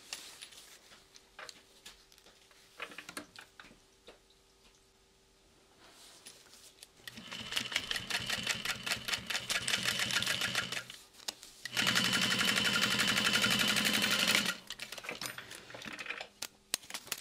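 A sewing machine top stitches a seam on a backpack, running in two steady bursts of rapid needle strokes, loud and close, separated by a short pause, with quiet handling sounds before the stitching starts and no talk.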